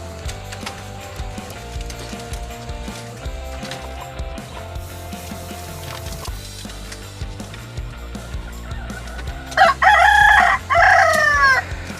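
Desi chickens on a poultry farm cluck and chatter under a low background hum, then a rooster crows loudly and close twice near the end.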